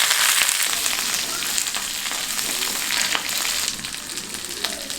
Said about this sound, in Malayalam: അറ്റം പിളരാതെ കട്ട് ചെയ്ത് വെച്ചിരിക്കുന്ന വെണ്ടയ്ക്കയാണിത്. ഇതൊന്ന് വഴറ്റിയെടുക്കാം.